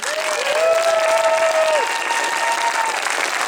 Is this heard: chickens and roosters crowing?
no